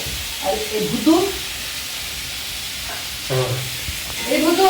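Food frying on a home cooking stove makes a steady sizzling hiss throughout, while voices talk over it at intervals.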